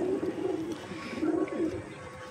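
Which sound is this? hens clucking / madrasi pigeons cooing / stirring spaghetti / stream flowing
madrasi pigeons cooing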